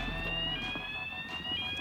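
A fire alarm sounds continuously through a building, a steady high-pitched electronic tone held throughout with faint background bustle and clatter underneath.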